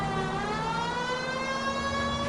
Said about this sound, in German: Da will ich sogar sagen, Sirene an!